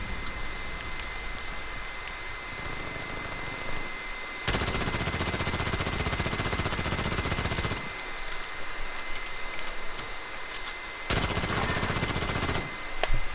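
Video game gunfire in long rapid automatic bursts, loud and sustained, alternating with quieter stretches of game ambience.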